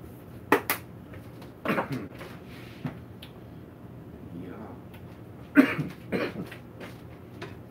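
A person with a lingering month-long cough coughs in a kitchen, a few sharp separate bursts spaced over several seconds with faint clatter of dishes and utensils between them.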